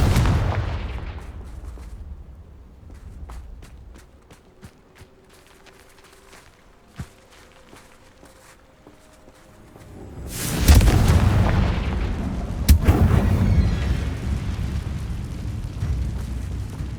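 Confringo fire spell explosions go off in Hogwarts Legacy on PlayStation 5: a quiet stretch of faint clicks and ambience, then a heavy booming blast, followed by a second sharp explosion and a long rumbling tail.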